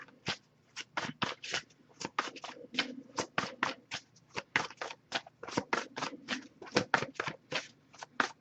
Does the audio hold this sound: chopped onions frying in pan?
no